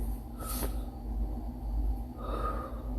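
A single deep in-breath during a children's breathing exercise, a short audible gasp-like inhale near the start over steady background hum, followed by a softer breath later.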